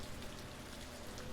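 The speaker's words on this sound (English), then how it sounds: "Okay, I do apologize for the rain noise." Rain in Trainz Simulator 3 hisses as an even, dense wash of falling drops, steady and fairly loud, with no voices over it.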